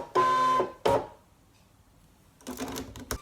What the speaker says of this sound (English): I'm going to load this into the machine.